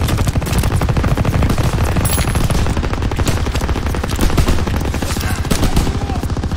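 Relentless rapid-fire gunfire in Call of Duty WW2, a loud, close, unbroken machine-gun stream of shots hammering for the whole stretch.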